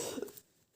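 A single short, soft cough, muffled and close, fading quickly into quiet.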